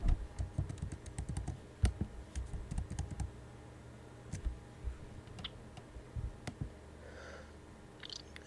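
Keystrokes on a computer keyboard clatter in irregular bursts, close and fairly quiet, with quick clustered taps and short pauses between words, no voices.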